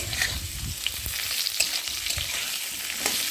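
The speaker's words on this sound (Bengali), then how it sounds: "এখন আমি একটা কাঁচা লঙ্কা দিয়ে দেবো আর দিয়ে দেবো হলুদ নুন দিয়ে একটু ভালো করে নেড়ে নেব" Potatoes fry in a pan with green chili, turmeric and salt while being stirred, producing a close, continuous sizzle broken by irregular scraping strokes of the spoon.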